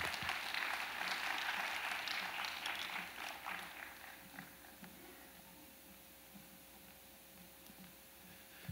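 Soft applause from a church congregation sounds from a distance and fades away over several seconds into a quiet room.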